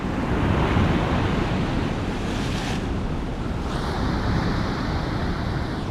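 Storm waves roll onto the Yalta shore in a loud, steady roar of surf mixed with wind buffeting the microphone, the wash continuing throughout with no talk.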